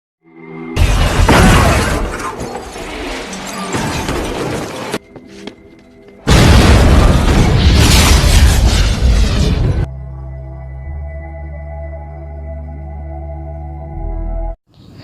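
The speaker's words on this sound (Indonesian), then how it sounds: "Dan pada akhirnya mobil yang dibawa oleh Han harus tertabrak dan tak lama mobilnya pun meledak." A car crash followed by an explosion in the film Tokyo Drift: two long, loud bursts of shattering, roaring impact noise separated by a short lull, then a lower, sustained rumble that fades out.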